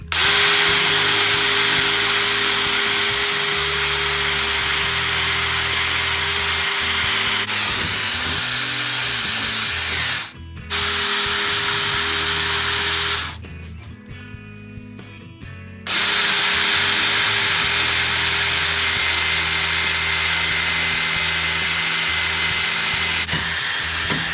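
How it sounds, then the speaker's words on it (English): A power drill bores holes through metal axle brackets for a lowrider go kart build, a loud, close, steady whine running almost continuously, broken by a brief stop and a longer pause midway before resuming, with no talk. "I'm going to drill little holes in there, in both of them"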